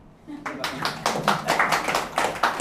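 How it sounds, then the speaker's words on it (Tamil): Audience at a Tamil astrology talk on marriage breaks into clapping, starting suddenly after a quiet moment and continuing as a loose, rhythmic patter of hands, fairly close and moderately loud. "இதுக்கு ஏதாவது ஒரு கைதட்டு தட்டுவீங்களா"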